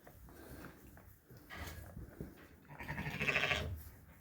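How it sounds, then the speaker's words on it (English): Two small white lambs bleating in a barn at night around three in the morning, a few short quavering bleats with rustling between them, near and fairly soft. "Even those 2 little white lambs over there at 3 or 3:30 in the morning having a good time."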